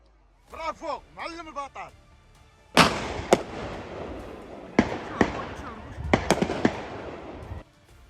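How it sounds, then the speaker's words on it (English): Rifle shots during a wild boar hunt in Texas ring out as sharp, loud cracks, roughly six of them spaced irregularly with echoing tails, after a brief stretch of talking at the start. "The scope was adjusted and the barrel continued to fire."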